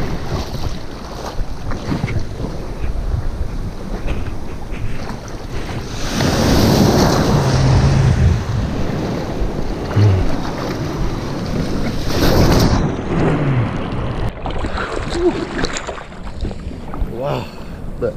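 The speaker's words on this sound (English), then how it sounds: "Ocean, it's very flat, no winds, there's no winds right now, small roller waves" Gentle surf from a flat, calm ocean at a Bolinas beach, small rolling waves washing in steadily with a continuous hiss, some wind buffeting the microphone and brief faint talk partway through.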